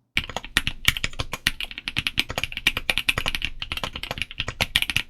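Fast, steady typing on an MKC75 gasket-mount mechanical keyboard, close up, with crisp dense clacks and no voices.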